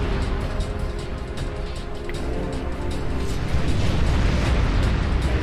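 A rocket explodes in the action game Kingdom Hearts 2.5, giving a loud, sustained roaring blast with crackling bursts that swell toward the end, heard without speech.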